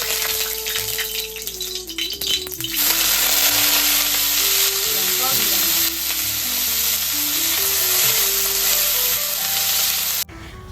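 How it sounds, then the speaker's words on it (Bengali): Sliced brinjal (eggplant) fries in hot oil, giving a steady, loud crackling sizzle that runs through the whole stretch over tonal background music, dipping briefly near the end. "আর এখানে কয়েকটা বেগুন কেটে নিলাম ভাজা করার জন্য"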